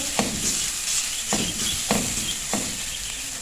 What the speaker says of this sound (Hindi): इसको थोड़ा सा फ्राई करेंगे ताकि इसका जो कच्चापन है ये ख़त्म हो जाए